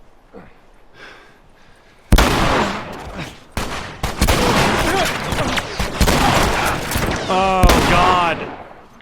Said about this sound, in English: I don't know which direction all of the bullets are coming from, so it seems like both.